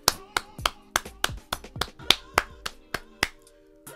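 Sharp, evenly spaced claps ring out one by one, about a dozen crisp hand claps in a steady rhythm with a slight room echo.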